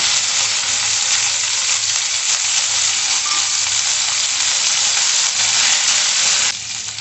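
Chopped coriander leaves sizzle steadily in hot oil in a pan, a loud, even frying hiss that continues without a break for the whole stretch, with no voices.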